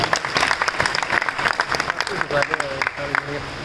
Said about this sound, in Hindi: बजाओ तालियां इनके लिए